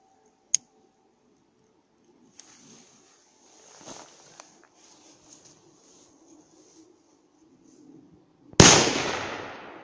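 A firecracker bursts with a single loud, sharp bang and a decaying crackle after a long quiet stretch of small clicks and faint fizzing.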